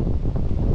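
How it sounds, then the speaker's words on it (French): Wind buffeting the microphone while riding a gravel bike downhill in the Estéron valley, Alpes-Maritimes, a loud low rumbling roar that fills the brief moment. "le vent s'est levé."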